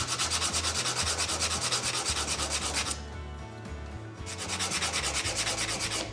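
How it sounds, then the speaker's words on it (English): Sanding block with 80 grit sandpaper worked over wooden trimmer studs in model house wall framing, a loud steady rhythmic back-and-forth scrubbing that pauses for about a second midway and then resumes. "grab my sanding block"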